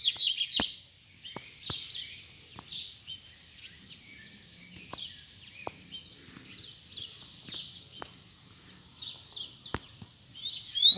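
Double-collared seedeaters (coleiros) sing in quick, bright chirping phrases: one free bird and one caged bird calling as if to fight, about a metre from the cage, with the repeated bursts loud and close and no talk.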